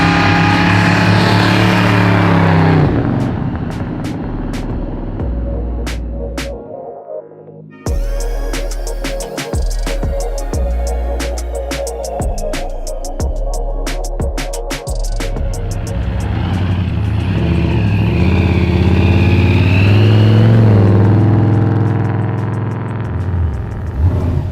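An 850hp supercharged Chevelle roars loudly from inside the car on a ride, the engine revving hard and climbing through gears, cutting out abruptly for a moment, then bellowing back with sustained heavy acceleration and wind.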